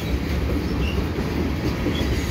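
A CN freight train led by a C44-9WL locomotive rolls past Dorval station at night, a close, steady rumble of wheels and cars with faint clacking and a thin squeal, no voices.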